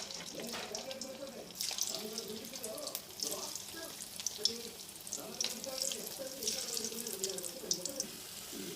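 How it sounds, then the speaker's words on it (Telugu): Potato pieces frying in hot oil for aloo fried rice, a steady crackling sizzle with bubbling hiss running throughout, fairly close and even in level, with no talking over it. "ఫ్రై అవుతున్నాయండి ఫ్రై అయ్యాక రైస్ చేసుకుందాము"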